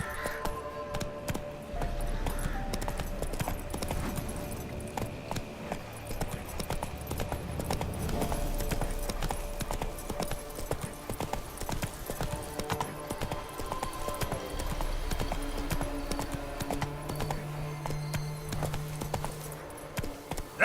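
Roach, Geralt's horse in The Witcher 3: Wild Hunt – Blood and Wine, clip-clops along in a steady rhythmic trot of hooves, moderately close, with game ambience and occasional soft harness jingles.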